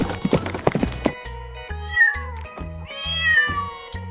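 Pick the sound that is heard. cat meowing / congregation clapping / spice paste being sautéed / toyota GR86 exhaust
cat meowing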